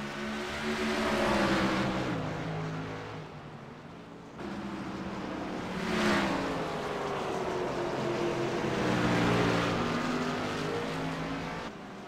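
Race trucks roaring around the Mid Ohio circuit in a RedLight Racing Series event, engines rising and falling in pitch as they sweep past, a steady loud drone with passing swells and no talk.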